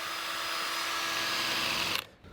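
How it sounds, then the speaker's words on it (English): A power drill whirs steadily, spinning a teak plug against sandpaper with a high grinding hiss, then cuts off and winds down. "Is that the teak in the drill?"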